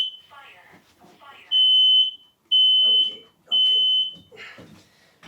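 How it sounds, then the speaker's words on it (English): A fire alarm, set off by haze in a can, sounds three loud, sustained high-pitched beeps in a regular pattern, with a person talking briefly before and between the blasts. "My haze in a can just set off the fire alarm"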